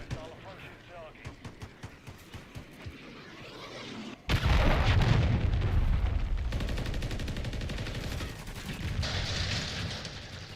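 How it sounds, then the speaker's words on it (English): A cruise missile strike in Call of Duty lands with a sudden loud, booming blast partway through, after scattered quieter game sounds, then rolls into a sustained, dense roar of rumbling explosions and crackling fire that stays loud to the end. "Friendly cruise missile approaching target."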